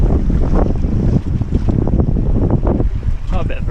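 Strong wind buffets a sailboat heaving to at sea during a race, a loud, continuous rumbling roar against the microphone with gusty swells and a faint hiss of water.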